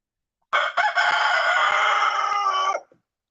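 A rooster crows once by a backyard pond, a loud, close, sustained cock-a-doodle-doo lasting about two seconds, heard alone against silence.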